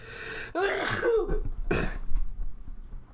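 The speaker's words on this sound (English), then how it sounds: "I just have to randomly sneeze as soon as I start recording" A single close, sharp sneeze bursts out indoors, followed by a second breathy expulsion and faint rustling, with no speech.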